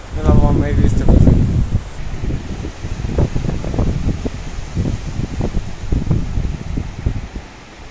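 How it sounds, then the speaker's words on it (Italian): Gusty wind on a sea cliff roars and rumbles continuously while a person talks over it, the blowing rising and falling. "sta tirando su il vento"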